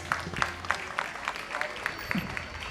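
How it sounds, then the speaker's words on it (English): Parents at a kindergarten graduation day ceremony clap in a sparse, loose round of applause, roughly evenly spaced claps over a few seconds, with faint voices in the background. "I request the parents to give a big round of applause."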